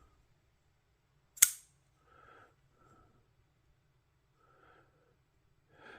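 Folding pocket knife with a smooth, hydraulic-feeling action snaps open and locks with one sharp, loud click, followed by a few faint soft rustles in a quiet room.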